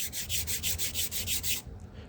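Edge shaper tool drawn repeatedly along a wood edge to cut a 45-degree centered bevel, giving a series of about ten quick, even scraping strokes in steady rhythm, close and clear, then stopping.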